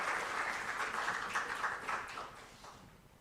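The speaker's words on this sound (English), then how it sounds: "Give yourselves a round of applause for that." Audience applause at a ceremony releasing Caribbean examination results, a dense wash of many hands clapping that starts full and gradually fades over a few seconds.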